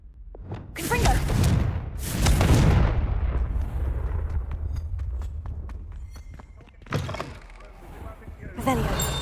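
The explosive Confringo spell goes off in the Hogwarts Legacy video game with several heavy booming blasts close together, followed by clattering, scattered impacts and rumbling. Another pair of sharp bursts comes near the end.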